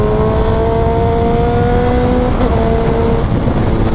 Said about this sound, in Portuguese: Meu, que sinfonia que tá fazendo esse motor